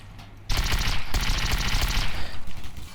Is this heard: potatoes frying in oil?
no